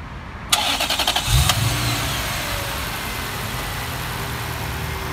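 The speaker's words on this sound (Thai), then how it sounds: "เสียงเครื่องยนต์นุ่มมากลองฟังไหม ลองฟังดูครับ" A modified Toyota 3UZ V8 car engine of nearly 300 horsepower cranks with a quick series of starter clicks, catches, then settles into a steady, smooth idle close by.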